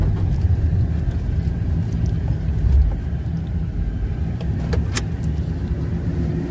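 A truck engine rumbles steadily in four-wheel drive while pushing through deep snow, a low continuous drone heard from inside the cab with a few faint clicks and knocks.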